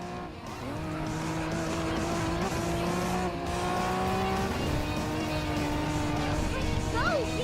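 Race cars in Racing Master howl around the Nurburgring circuit, engines droning at a steady high pitch that shifts as gears change, with brief tire squeal near the end, loud and continuous.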